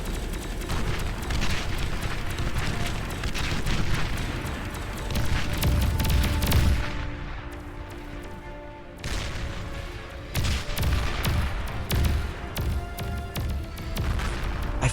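A battle in the real-time strategy game Beyond All Reason, with dense gunfire and rumbling explosions building into heavy booms, a brief lull, then more blasts and scattered shots.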